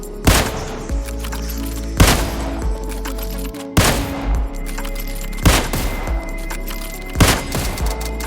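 Mosin and Kar98k bolt-action rifles fire in the PUBG video game, five loud, sharp shots spaced roughly every two seconds, each followed by the quieter mechanical clack of the bolt being cycled, over a steady low background hum.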